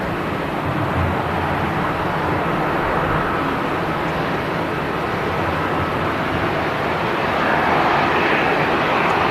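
A large airliner roars steadily at Manchester Airport, a dense, continuous engine rumble and hiss that holds strong throughout the turn, with no voices over it.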